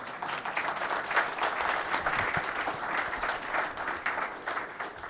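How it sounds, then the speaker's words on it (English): An audience at a church afternoon program applauds quietly from a distance, the clapping soft, uneven and rippling for about five seconds. "They deserve an applause."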